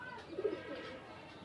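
A pigeon kept on a rooftop gives a single soft, low coo. The call is faint and brief over quiet background.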